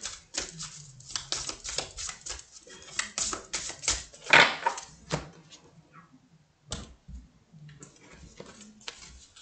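Oracle cards being shuffled and drawn by hand at a table, a quick run of crisp papery flicks and taps, fairly close, with brief pauses between bursts.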